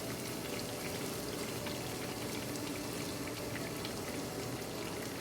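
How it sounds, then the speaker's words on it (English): Onion, garlic and ginger seasonings fry in a pan for shrimp marinara, making a loud, dense, continuous crackling sizzle throughout with no talking. "then we're going to start to fry our seasonings. So we're going to start with our onion"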